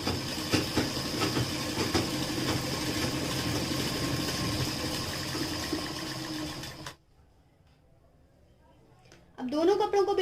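Sewing machine stitching salwar fabric, a steady fast mechanical whir with clicking rhythm running continuously for several seconds, then stopping abruptly into near silence before a voice begins speaking.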